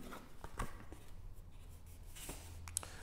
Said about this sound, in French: J'ouvre l'enveloppe avec vous